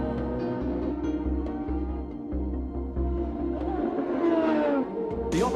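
A Lola chassis with a Honda IndyCar engine roars steadily through track testing, its droning tone shifting in pitch as it runs, loud and close with a sharper rising burst near the end.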